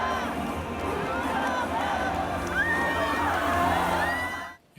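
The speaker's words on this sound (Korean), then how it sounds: "지금 대통령이 회원들의 박수, 갈채와 환호를 받으면서 입장하고 있습니다." Applause and cheering from a large crowd of members fill a Seoul gymnasium as the president enters, a dense, steady roar of clapping and voices that cuts off abruptly at the end.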